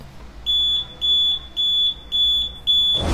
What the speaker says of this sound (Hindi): टेबल पर ये जो चीज रखी है वो है DIY motion sensor buzzer alarm